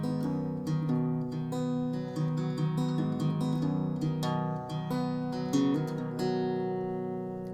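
A clean guitar plays the intro of a song alone, plucked notes ringing over held chords in a steady, unhurried line, close and clear throughout.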